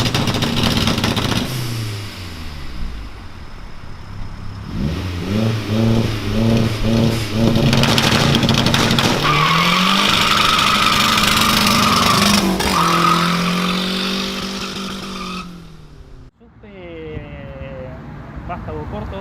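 Turbocharged VW Gol 1.6 with 71,000 km, fitted with short struts and progressive springs, revs hard while driving. The loud engine climbs and drops through repeated gear pulls with whooshing turbo sounds, then fades near the end.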